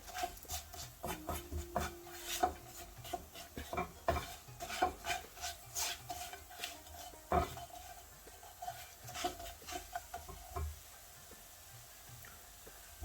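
A spoon or spatula scrapes and stirs vada pav filling in a pan over low heat, with repeated soft scraping and clinking strokes, fairly quiet and close, with no talk.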